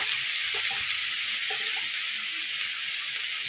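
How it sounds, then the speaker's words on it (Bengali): Whole cumin seeds with onion and garlic paste hit hot oil in a loud, dense, continuous hiss, a close and even sizzle with a few faint stirring knocks beneath. "তেল গরম হয়ে গেছে, তেলের মধ্যে ফোড়নে দিয়ে দিচ্ছি গোটা জিরে, দিয়ে দিচ্ছি পেঁয়াজ বাটা, রসুন বাটা"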